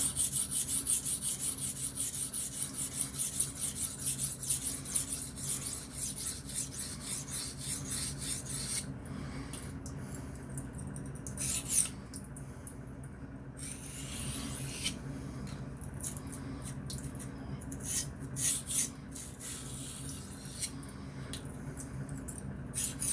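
A blade is sharpened freehand on a Venev industrial diamond stone with a steady rasping scrape of repeated half strokes, close and continuous, with brief pauses and changes in pressure.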